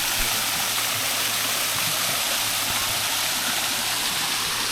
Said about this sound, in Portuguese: Vamos ver aqui a cascata primeiro.